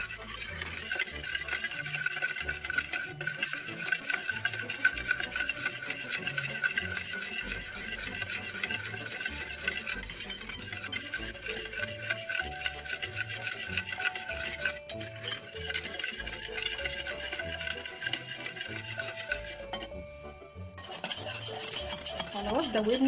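A spoon stirs cocoa and sugar into milk in a pot for chocolate sauce, a steady scraping swirl that runs the whole time with faint clinks against the pan, and no one speaks.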